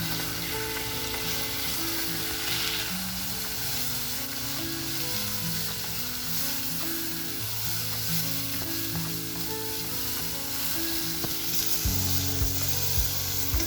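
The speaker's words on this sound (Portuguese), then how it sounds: "eu jogo aqui tem meu alho e minha cebola, entendeu? Aí eu vou refogar tudo junto" Garlic and onion sautéing in a non-stick pan, a loud continuous sizzle with stirring and clinking underneath, with no talk.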